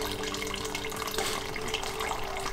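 Water runs steadily out of a water cooler being cleaned, draining into a bucket with a constant splashing stream and a faint tonal hum underneath.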